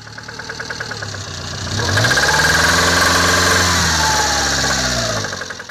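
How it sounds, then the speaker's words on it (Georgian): A car engine warning of imminent failure idles roughly with a knocking beat, then revs up into a loud, strained drone with a metallic knocking vibration before settling back down, close and alone. "ამ ხმის გაგონება მოასწავებს ძრავის ხომიდან გამოსვლას"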